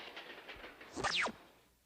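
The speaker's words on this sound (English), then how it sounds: "You've got to stop that train." A cartoon train runs along a railroad track, heard as a rhythmic clatter that builds into a brief loud rushing pass before fading away, with no talking.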